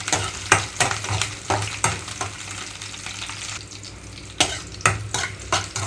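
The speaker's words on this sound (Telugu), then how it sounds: "ఇక్కడైతే పచ్చిమిరపకాయ ముక్కలు మధ్యలోకి కట్ చేసి వేసుకుంటున్నాను." Green chilli pieces fry in oil in a pan with a soft sizzle, under repeated sharp scraping clinks of a spoon stirring against the pan.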